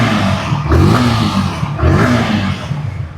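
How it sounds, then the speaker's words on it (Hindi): Yamaha R15 motorcycle engine running after start-up, a close, loud throaty exhaust note that swells in two blips of revving over a steady idle. "मैं गाड़ी को स्टार्ट करता हूँ तो इसका साउंड आप यहाँ पे चेक कर लो"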